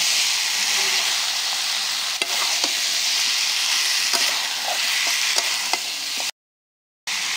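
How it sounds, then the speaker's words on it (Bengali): Meat sizzling and frying in spice paste in a pan, a steady broadband hiss with occasional scrape and stir clicks, close and fairly loud, cutting to silence briefly near the end. "মাংস দিয়ে ভালো করে আমি কষিয়ে নেব"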